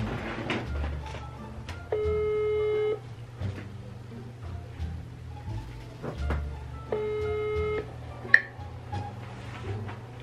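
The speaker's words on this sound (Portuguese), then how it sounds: "Tô ligando." Outgoing phone call ringback tone, two long electronic rings separated by a pause, heard close over faint room noise and small handling sounds.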